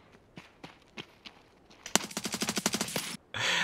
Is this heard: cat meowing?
no